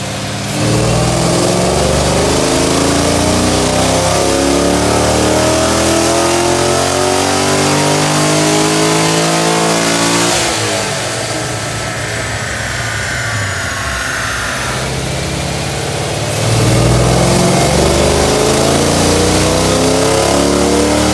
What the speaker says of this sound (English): We're going to fire it up here, get the tires cleaned off, do a couple of baseline pulls